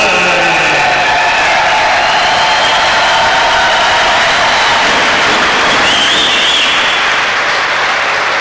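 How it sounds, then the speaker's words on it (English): A large crowd at a boxing match applauds and cheers steadily after a knockout win, a loud continuous roar of clapping and voices throughout with tonal sounds layered in. "how about a big round of applause for very gallant Mike Youngster Yomi"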